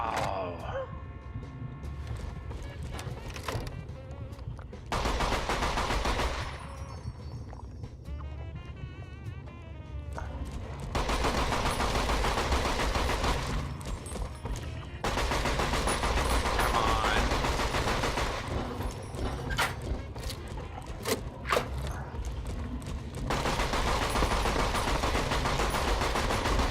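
Gunfire in Fallout: New Vegas, mechanical clattering bursts and rattling shots repeating through the stretch, loud and close, with someone talking over parts of it.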